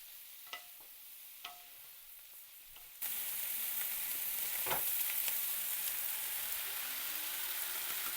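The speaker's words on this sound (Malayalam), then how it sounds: "സോട്ട് ചെയ്ത് വെച്ച വെജിറ്റബിൾസും നൂഡിൽസും കൂടി ചേർത്ത് ഒന്ന് മിക്സ് ചെയ്ത് കൊടുക്കുക." Stir-fried noodles with sliced chicken and sautéed vegetables sizzle in a pan, first a quiet background with a couple of faint clicks, then a sudden steady close frying hiss with light stirring scrapes.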